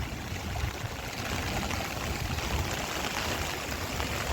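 Rainwater running off a farm field in a village during heavy rain, a steady broadband rushing flow that stays loud and even throughout, with no voices.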